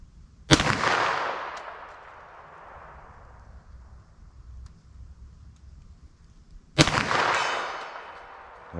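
Two sharp 9mm +P pistol shots are fired into ballistic gel at an outdoor range, loud and close, each cracking hard and then decaying into a long echoing tail several seconds apart, with wind noise between.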